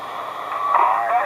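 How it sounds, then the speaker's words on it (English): Broadband hiss and rough background hash from a Royce 639 SSB/AM CB radio on sideband, a steady noisy wash that swells slightly louder midway and carries on without voices. "A little bit more white noise, background hash and trash on sideband."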